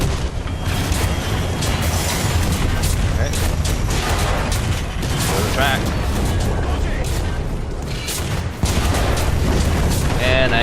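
A tank blown up by a T-90's shot in War Thunder: dense, sustained rumbling explosions and heavy booming cannon fire fill the scene loudly, with a brief dip before a sharp blast near the end, mixed under battle noise.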